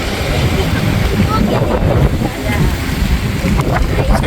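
Strong wind roars steadily and loudly against the microphone outdoors, a constant buffeting rush that fills the whole moment, with voices faintly present beneath it.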